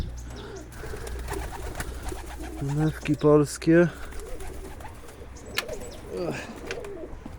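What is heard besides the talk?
pigeons cooing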